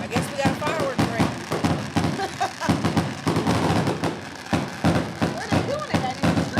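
Fireworks burst repeatedly outside in rapid, irregular cracks and booms, loud and dense, with people talking over them.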